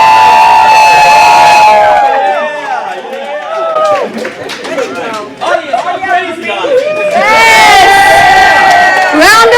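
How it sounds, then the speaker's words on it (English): At a tech pitch competition in Henderson, a large indoor crowd cheers loudly, whoops and shouts, with applause mixed in, swelling at the start and again near the end and staying dense and energetic throughout. "Round of applause for all of our finalists and our winner"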